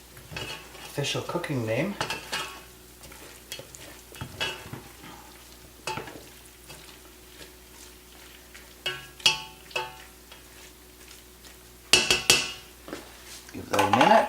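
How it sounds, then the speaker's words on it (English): Onions stirred in a pan with a metal utensil, giving repeated scraping and clanking strokes over a low sizzle, irregular and close, with someone talking briefly in between. "Stir it around so it actually really does stick to the onions"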